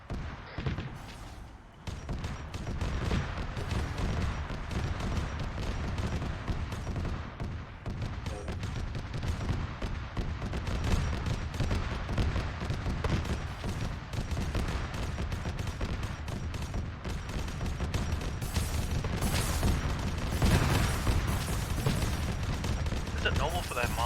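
Heavy bolter and other gunfire in a video game, rapid bursts and fusillades rattling almost continuously, with voices talking over the shooting throughout.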